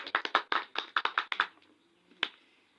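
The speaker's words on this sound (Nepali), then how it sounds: "हामी ताली बजाएर स्वागत गर्छौँ" A group claps to welcome someone at a gathering, a quick burst of about ten sharp, close claps lasting under two seconds, then a pause and one last lone clap.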